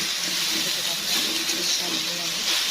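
Green chilies frying with potato, onion and garlic in a pan, a continuous broad sizzle and hiss close by, holding steady at a fairly loud level while a voice talks over it.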